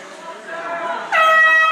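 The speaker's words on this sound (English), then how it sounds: "official getting behind lane 4, Max Erdman, blowing that air horn and letting him know that he's approaching his final laps" At a swim meet, a loud, sustained air horn blast signalling final laps of the 500-yard freestyle cuts in near the end, a harsh steady tone over crowd noise and an announcer's voice.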